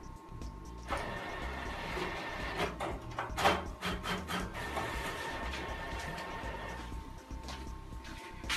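School photo printers running steadily in a room, a continuous mechanical whir with a brief louder clatter partway through, holding at a moderate level with no talking.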